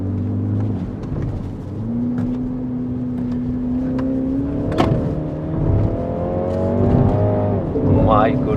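A car with a 2-liter petrol engine making 190 PS accelerates hard in sports mode. Its engine tone climbs steadily across the gears, close and prominent, with a short gear-change dip partway through.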